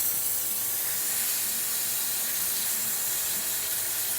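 La Pavoni Europiccola espresso machine steam wand hissing steadily and loudly from start to end, a continuous broadband rush of steam with no pauses and no talking.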